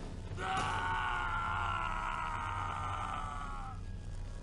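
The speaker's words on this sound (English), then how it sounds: "A massive pile of rubble falls on Kyle as you hear his dying screams" A drawn-out, strained scream of about three seconds from the character Kyle as a pile of rubble falls on him in the Jedi Academy video game, rising over a constant background hum.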